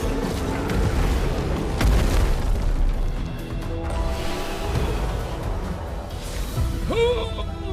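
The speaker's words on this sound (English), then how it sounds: "Oh, your bomb blew up." Booming bomb explosion in the video game Clair Obscur, a dense, loud blast with rumbling low end and scattered bursts over several seconds, followed by a brief whooshing sweep near the end.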